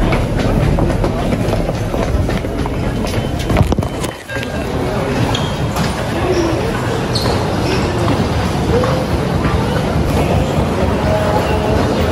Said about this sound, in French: This is a Jamaica Center bound E train.